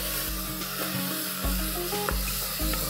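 Two finely chopped medium tomatoes are stirred into frying onions in a pan for dal khichdi, a dense close sizzle with regular scraping and stirring strokes every half second or so, no talking.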